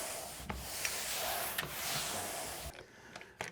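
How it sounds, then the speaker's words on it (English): Sandpaper rubs across a freshly painted wall coated with Dulux or PPG paint an hour and a half earlier, giving a steady close scratchy scraping of repeated strokes that drops to a few lighter swipes at the end. "See how well this paint holds up to getting sanded after an hour and a half."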